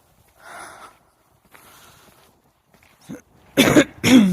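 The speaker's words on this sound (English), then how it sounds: "Sorry, I'm coughing." Several harsh coughs, a couple of faint ones early on, then two loud, close bursts at the end, with no talking.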